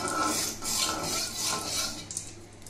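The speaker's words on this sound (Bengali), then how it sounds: "একটু নেড়ে নিচ্ছি তেলটা" A utensil scrapes and stirs salted oil heating in a pan, producing rhythmic metallic scraping strokes that come close together, then fade into lighter clinks.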